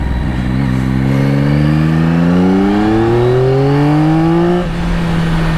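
A 2024 Yamaha XSR900 motorcycle engine pulls hard and loud through the gears, its pitch climbing steadily with one brief upshift dip near the end; no talk.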